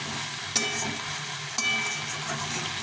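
Green jackfruit curry for a vegetarian dish being sautéed in a pan, a steady soft sizzle with two sharp clacks of a spoon against the pan, close and without talk.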